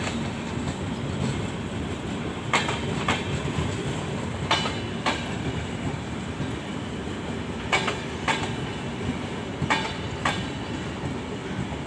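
The Golden Temple Mail 12904 express rolls past on a diverted route near Jaipur and Ajmer, a loud continuous rumble of coaches with repeated clickety-clack wheel beats over rail joints, close and without talk.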